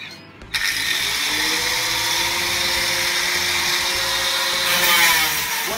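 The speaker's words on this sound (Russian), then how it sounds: "И начинаем пилить." A workpiece for a homemade quail cage is cut with a power tool, giving a steady, loud, whirring mechanical drone that holds for about five seconds with no talk.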